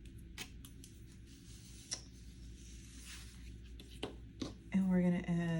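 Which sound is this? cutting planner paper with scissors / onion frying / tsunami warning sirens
cutting planner paper with scissors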